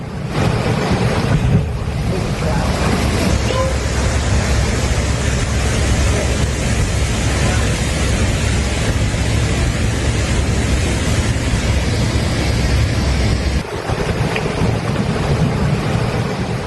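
The fast-flowing, swollen Teesta river in Sikkim, a loud, continuous roar of rushing water with one brief dip near the end.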